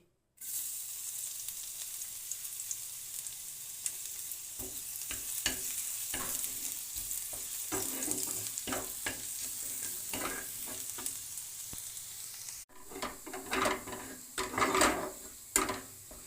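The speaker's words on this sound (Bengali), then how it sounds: "গরম হয়ে গেছে, এবার দিয়ে দিলাম রসুন কুচি।" Chopped garlic sizzles in hot white oil in a pan for a homemade pizza topping, a continuous close frying hiss with scraping stirs throughout and a sharper, louder burst of crackling and stirring toward the end.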